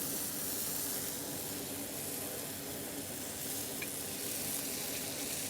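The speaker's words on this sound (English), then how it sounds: "Okay, now I am going to add a little bit of tomato puree which is already cooked." Cooked tomato puree sizzles loudly and steadily in a hot pan while bhendi do pyaza is cooked in a hotel kitchen, a bright, even hiss with no voices.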